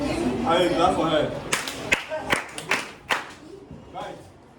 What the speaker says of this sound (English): Okay, clap for her.